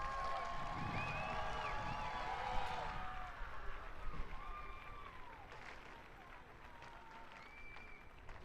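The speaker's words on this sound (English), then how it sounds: "Let's give them another round of applause." A family-day audience claps in a sustained, fairly faint round of applause that fades slowly, with no voices standing out.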